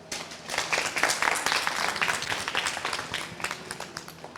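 A college theatre audience on a Malayalam comedy game show bursts into applause, dense clapping swelling quickly and holding steady for a few seconds before easing slightly.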